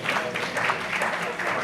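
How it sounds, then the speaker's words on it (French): Audience applause welcoming Frinel Joseph, presidential councillor and pastor, to the stage at the launch of a campaign mobilising women around fair elections in Haiti; dense, steady clapping throughout with a hint of voices under it. "Sous vos applaudissements"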